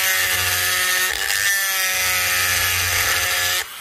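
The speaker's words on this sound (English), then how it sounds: "So we can grind down on these. Just grind down." A power grinder wears rock away from a baculite fossil, producing a loud, steady high-pitched whine and abrasive buzz that holds almost unbroken for several seconds before cutting off abruptly.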